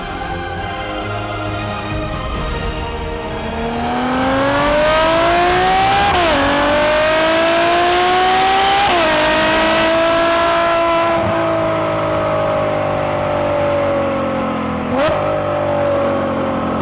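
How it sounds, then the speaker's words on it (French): A Ferrari GTC4 Lusso's V12 engine revs and pulls hard, its loud, rising howl climbing through gears with brief dips at each shift, close and sustained. "bienvenue dans la crème de la crème des shooting breaks, la Ferrari GTC 4 Lusso"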